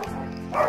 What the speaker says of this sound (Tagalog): Kung naririnig yan, mga aso ko yun